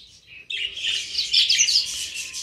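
Budgerigar chicks in a cage chirp and tweet rapidly in a dense, continuous high-pitched chorus, close by and fairly loud, starting after a brief quieter moment.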